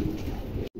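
Pigeons at a pigeon seller's loft give a low, steady cooing murmur that runs close and continuous, then cuts off abruptly near the end.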